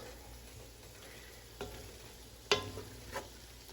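Cold kimchi sizzles steadily in a hot pan for fried rice, a close, even hiss broken by a few sharp spatula clinks and scrapes against the pan.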